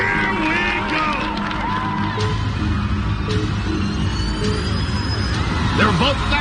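An excited crowd cheers and whoops at an American Ninja Warrior women's championship, a dense roar of shouts and whistles filling the arena, with a commentator's voice over the noise.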